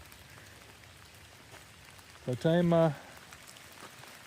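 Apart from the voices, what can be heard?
rain falling at a campsite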